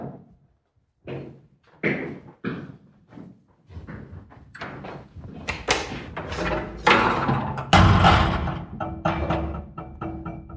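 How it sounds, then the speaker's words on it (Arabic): A door being opened amid a run of knocks, thumps and clunks, starting sparse then growing denser and louder, with sharp close impacts and no talk over them. "افتح الباب."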